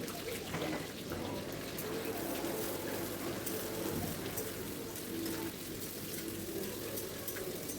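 Thinly sliced onions frying in a pan toward golden brown for a chicken kosha, giving a steady, dense sizzle that fills the whole stretch, with a voice faintly present beneath it.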